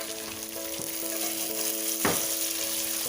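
Mixed vegetables for an Assamese veg pulao made with joha rice fry in a pan, a loud, close, continuous sizzle with a few stirring scrapes.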